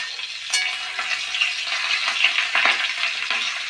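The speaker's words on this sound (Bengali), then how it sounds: "ঘিটা গরম হয়ে গেছে ভালোভাবে, সমস্ত গরম মশলা ও আদা বাটা একসঙ্গে দিয়ে দিলাম।" Whole spices and ginger paste frying in hot ghee for a biryani base, giving a steady close crackling sizzle with a few sharp spatters and occasional stirring scrapes, and no voices.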